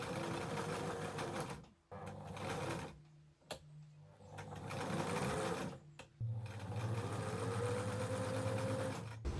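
A sewing machine runs steadily as it stitches fabric, a close, continuous mechanical whir that stops briefly a few times before starting again.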